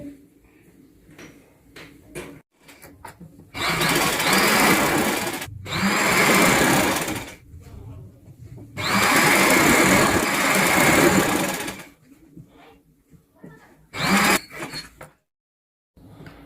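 A sewing machine runs straight stitching along a sharara frill, its motor whirring in four separate runs of a few seconds each, with quiet pauses between them.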